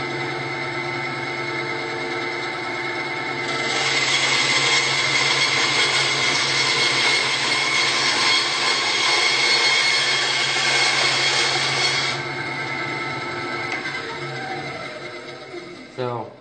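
A SKIL 3386 9-inch band saw slices a thin piece from wood in a steady, loud, close whine. The tone rises in pitch under load for several seconds and then settles back to idle.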